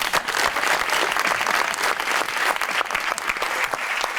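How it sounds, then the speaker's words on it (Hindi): Studio audience on a Pakistani television comedy talk show bursts into steady, dense applause, loud and continuous throughout with no pauses. "तालियां।"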